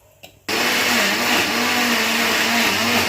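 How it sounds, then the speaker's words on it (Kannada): A mixer grinder kicks on after a brief quiet moment, blending tamarind that was soaked for two hours in hot water with a little salt. The motor runs as a loud, steady whine and whir that continues to the end. "ಇವಾಗ ಮಿಕ್ಸಿಗೆ ಹಾಕಿ ತೋರಿಸ್ತೀನಿ."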